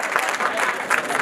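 Guests at a wedding applaud as a gift is presented: dense, continuous clapping from a crowd, loud and close, swelling briefly near the end.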